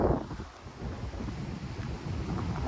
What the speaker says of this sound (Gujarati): મોજા આવે ને તમને દેખાડું